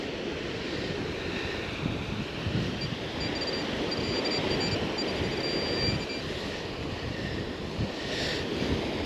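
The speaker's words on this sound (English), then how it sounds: "Hopefully you can hear me over this wind." Strong wind buffeting the microphone on a beach in the evening, a steady broadband roar with faint surf mixed in, no voices.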